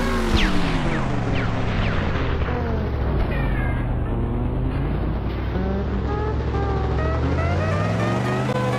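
A monster truck in the video game Roblox Car Crash Simulator, slightly damaged, drives with a loud continuous engine whose pitch rises and falls through revs and gear changes.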